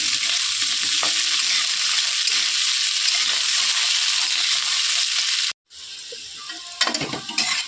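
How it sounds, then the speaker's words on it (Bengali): Cauliflower pieces frying in hot oil in a pan, a steady close sizzle that cuts out briefly and returns, with stirring clatter toward the end. "ফুলকপিটা দেখুন লাল লাল হয়ে এসছে, ভাজা ভাজা হয়ে এসছে প্রায়"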